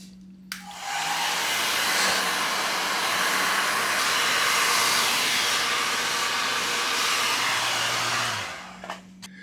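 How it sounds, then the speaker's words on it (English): A heat gun warming the gas tank of a Yamaha FJ09 Tracer motorcycle before fitting tank pads: it clicks on, blows a loud, steady, close hissing roar for about eight seconds, then switches off, with no talking. "we're just going to use a heat gun and warm it up for a little bit"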